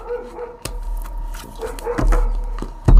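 Small dogs bark in sharp, irregular yaps close by, several loud bursts scattered over a few seconds with softer yips and whimpers between them.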